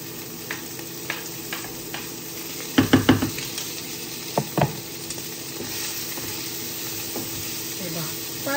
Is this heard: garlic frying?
yes